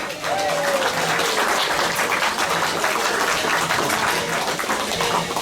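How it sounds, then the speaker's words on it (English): Applause from an audience at a 110th birthday celebration for Locomotive 106, a steady crowd of clapping that holds evenly through the whole stretch, fairly loud and close. "I think that deserves a round of applause."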